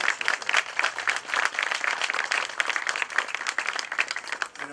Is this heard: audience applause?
yes